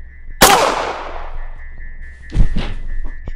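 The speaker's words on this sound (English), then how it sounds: "Fortunately, no one heard the gunshot." Gunshot effect in an old-time radio horror drama: a single loud, sharp blast with a long decaying tail, followed a moment later by a couple of duller thumps.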